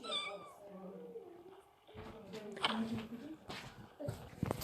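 A cat in the Toca Life video game meows several times, with short whining calls over soft background sounds and some faint movement.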